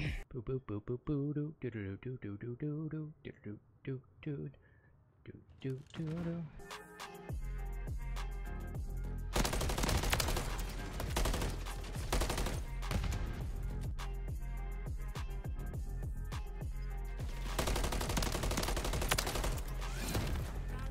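Call of Duty Modern Warfare 3 ranked-play gunfire: loud rapid bursts of automatic weapon fire with overlapping shots, preceded by a player talking over quieter game sound.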